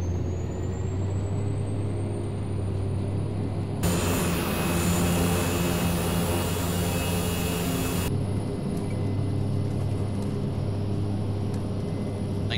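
The twin turboprop engines of a Carenado Shorts 360 in a Prepar3D v4 flight simulator drone steadily, then swell into a loud, roaring burst at takeoff power before settling back to a constant hum.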